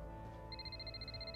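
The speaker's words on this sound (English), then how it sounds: "oh, phone call." A telephone ringing in the video game Dreamfall Chapters, a repeating electronic trill that starts partway in and pulses steadily over a quiet background score, clear and close.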